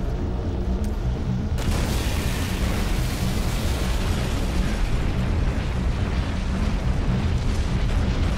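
Grenade detonation in Halo 3 multiplayer-style combat: a dense, loud, continuous roar of explosive noise fills the whole stretch, a sharp burst marking the onset and the blast rumble sustained throughout, with no talk over it.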